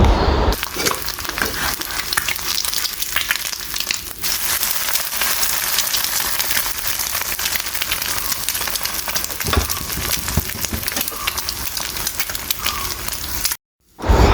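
An egg frying crispy in a hot pan, a loud continuous crackling sizzle with dense popping spatter that runs unbroken for over thirteen seconds before cutting out briefly near the end.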